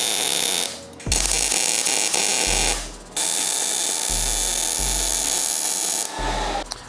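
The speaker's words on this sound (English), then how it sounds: "I'm gonna weld that in there just like that" A spring pin is welded into a 4th gen Toyota 4Runner rear bumper, a Coastal Offroad build. Loud, close, steady electric buzzing comes in several bursts of one to three seconds, stopping and restarting between welds.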